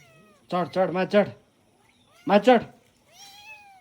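Several short, tonal meows come in quick bursts, a group of three and then two, followed by a softer, higher cry at the end.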